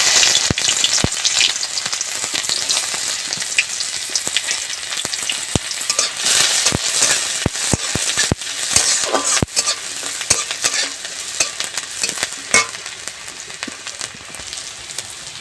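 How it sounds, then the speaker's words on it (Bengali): Chopped onion fries in white oil for carrot paratha filling, a steady crackling sizzle with frequent sharp spatula taps and scrapes against the pan, close and loud with no talking. "তেলের মধ্যে দিয়ে দেবো পেঁয়াজ কুচি"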